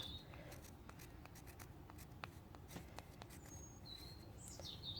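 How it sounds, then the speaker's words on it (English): Pen marking a pepper variety name on a plant label during seed sowing, faint close scratchy strokes in short bursts over a steady background hiss, with light bird chirps outdoors. "So what I like to do is write the name."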